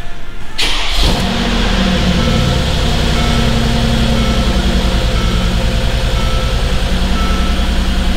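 With the ignition switched on in a car having coil spring work, a steady repeating warning beep sounds over a loud running engine that starts up at the beginning, continuous and close.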